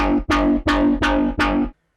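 Distorted synth bass built in Vital with reverb, compressor, distortion, EQ and a phaser, playing four loud, sustained, gritty notes in a steady rhythm that cut off abruptly into silence.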